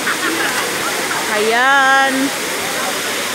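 A waterfall roars as a constant broadband rush while a person speaks briefly over it, the voice rising in pitch near the middle.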